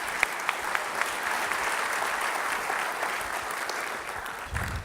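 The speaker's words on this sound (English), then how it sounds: "So let's give them a big round of applause." Sustained audience applause at a mayor's development forum in downtown Long Beach, a dense steady wash of many hands clapping for nearly five seconds, loud and even, with a few sharper claps standing out.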